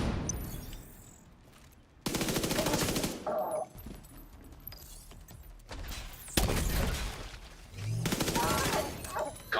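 Gunfire in The Division, several loud bursts of automatic shooting broken by quieter gaps with thuds and impacts, a voice talking faintly in between.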